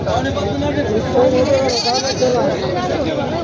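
A goat bleats under steady chatter from a crowd at a goat and sheep market in Jawla, its wavering cries partly buried by the voices around it.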